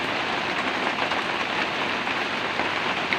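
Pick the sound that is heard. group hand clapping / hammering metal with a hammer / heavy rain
heavy rain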